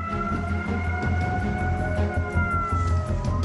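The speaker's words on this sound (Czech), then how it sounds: "Slyšíte ty sirény?" Military warning sirens sound during a tsunami alert on the Japanese coast, several sustained wailing tones held steady and loud for the whole stretch over a low rumbling background.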